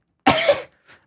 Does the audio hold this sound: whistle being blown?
no